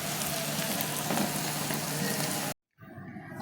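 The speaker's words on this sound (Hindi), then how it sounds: "अब मैं इसमें ज़ीरा डाल देती हूँ और ब्लैक पेपर, और इसे अराउंड 2 मिनट के लिए मीडियम फ्लेम पर स्टर कर देती हूँ।" Egg and onion curry seasoned with cumin and black pepper sizzles steadily in a pot over a medium flame, a dense continuous fry that cuts out abruptly near the end before resuming more quietly.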